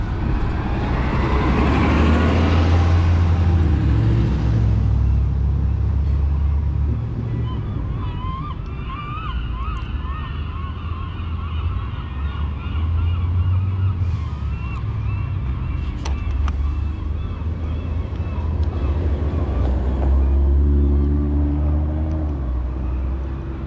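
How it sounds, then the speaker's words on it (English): A city bus, the number 20 in Nanaimo, British Columbia, rumbles as it draws near on the street, its low engine drone rising and falling amid wind noise and outdoor traffic. "So it looks like the bus is coming"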